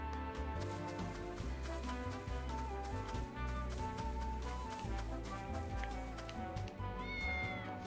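A cat meows in the Nintendo Switch game Triangle Strategy, its calls mixed into calm, steady background music.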